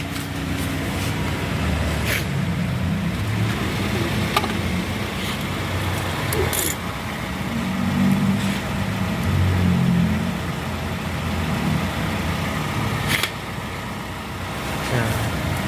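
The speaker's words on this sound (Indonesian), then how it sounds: "mobil sudah nyala ya teman-teman" A car engine idles continuously with a low steady rumble, alongside a portable tire inflator plugged into the car socket, with faint clicks and handling noises over the hum.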